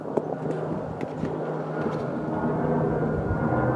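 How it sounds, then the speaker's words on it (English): A firefighting airplane flies over a wildfire, giving a steady, broad engine roar at moderate distance that builds slightly louder across the few seconds, with no talk. "Oh, and there's another plane up there."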